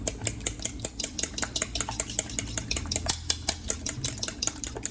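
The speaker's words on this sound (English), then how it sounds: "We're gonna give this a little more of a stir." An egg mixture for a vegetable frittata gets whisked briskly in a bowl, with rapid, rhythmic clinks of utensil against the dish, close and alone.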